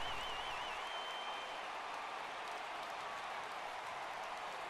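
Crowd noise at a baseball game in MLB The Show 17, a steady, distant wash of cheering and clapping held at an even level with no voices up front.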